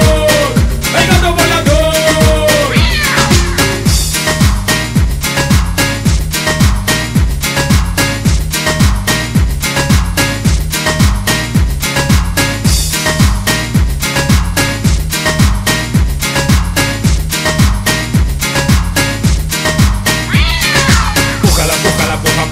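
Cat meows sound in a song, with drawn-out meow cries near the start and again near the end over a loud, steady, pulsing beat.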